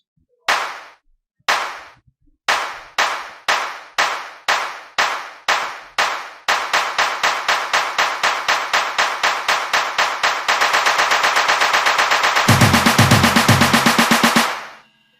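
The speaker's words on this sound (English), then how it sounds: "So here I built mine with snares and claps." An Afrobeat build-up programmed in FL Studio stacks snare and clap hits that start as spaced single strikes and speed into a rapid roll, loud and dry, rising to a dense climax before cutting off.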